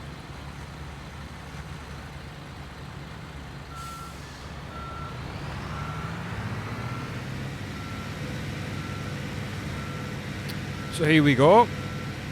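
A truck in the Construction Simulator video game drives toward a building material dealer, its engine rumbling steadily while a repeating reversing beep pulses throughout, with a louder burst near the end and someone talking over it.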